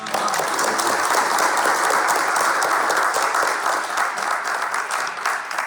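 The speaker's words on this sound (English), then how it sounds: "give me an initial round of applause right now" Sustained applause from a large crowd, dense and steady throughout, with no voices standing out above the clapping.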